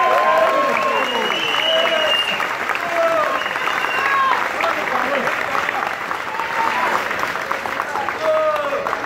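Crowd of PSDB party militants at a primary victory event applauding, a sustained wash of clapping with cheering voices and shouts rising above it, steady and loud throughout.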